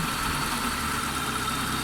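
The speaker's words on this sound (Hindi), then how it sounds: "अभी गाड़ी स्टार्ट करके चेक करते हैं। गाड़ी स्टार्ट है" A Hyundai Santro car engine idles after a tappet adjustment, a steady, even hum heard close and alone without any talking.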